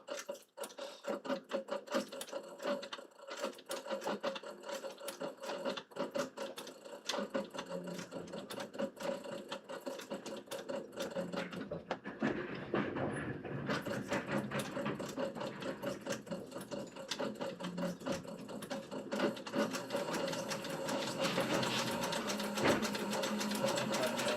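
A sewing machine stitches through a chrome tan leather mousepad, giving dense rapid needle clatter with a steady mechanical hum that runs continuously up close and grows slightly louder toward the end.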